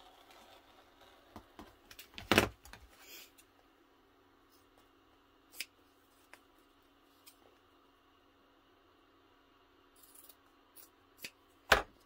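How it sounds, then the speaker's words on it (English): Scissors snip through vinyl and fabric while a zippered beauty bag is sewn, a few sharp crisp cuts spread out over quiet room tone, one loud close snip early and another near the end, no talking. "you can use the scissors or the rotary cutter"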